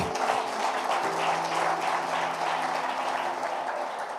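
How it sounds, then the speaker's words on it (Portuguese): A church congregation applauds during a worship service, a steady, dense wash of clapping that holds for the whole stretch, fairly loud and close, with a faint sustained tone underneath. "você pode aplaudir Jesus"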